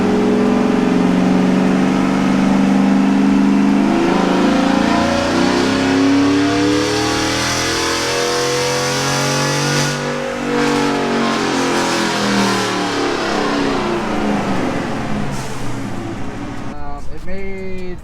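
A Tahoe V8 fitted with new headers and exhaust roars loudly through a power run, its pitch climbing and falling in long sweeping revs before cutting off near the end.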